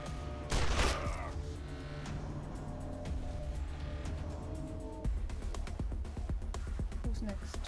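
A game character fires on an enemy: a burst of gunshots early, then a rapid string of sharp cracks in the second half, fairly faint beneath people talking.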